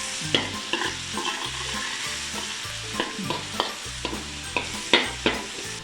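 Tofu frying and browning in a hot pan for a tamarind tofu dish, a steady close sizzle broken by regular scraping stirs of a spatula, about two per second, with no voices.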